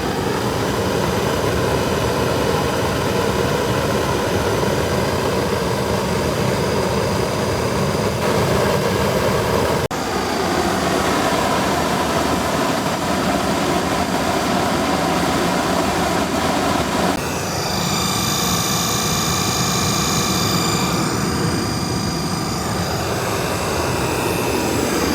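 A waste oil shop heater burner runs steadily, a loud continuous roar with a broad rushing hiss throughout, shifting slightly in tone partway through.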